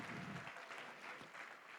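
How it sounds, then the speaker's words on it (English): Gala audience applause, a brief, fairly faint wash of steady clapping from a crowd in a hall, heard alone without speech. "One last time, a big round of applause for all the participants in our Fund the Need here this evening."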